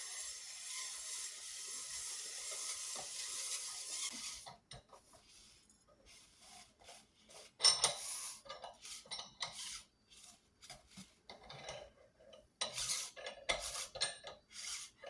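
A Vevor fruit press being cranked down, giving off irregular metallic clanks and scraping rattles in bursts, with a steady hiss in the first few seconds followed by sporadic knocks and clatters close by.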